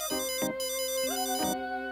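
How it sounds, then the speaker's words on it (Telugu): A phone ringtone plays a repeating electronic melody of bright, tonal beeps, loud and close, with no talking over it. "రేయ్ ఫోన్ వస్తుంది చూడరా."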